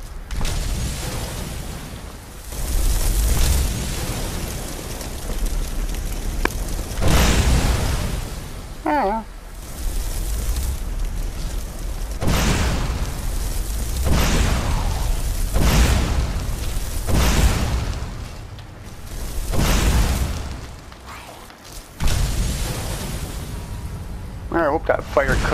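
Fire spell explosions in Skyrim, a run of loud booming bursts repeating every few seconds over about 25 seconds, with someone talking throughout.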